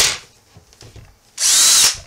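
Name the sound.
power drill running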